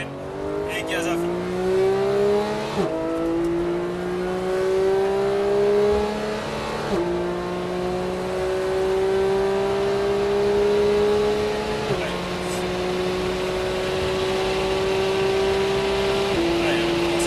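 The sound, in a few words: Porsche 991 GT3 accelerating at full throttle, Paul Ricard circuit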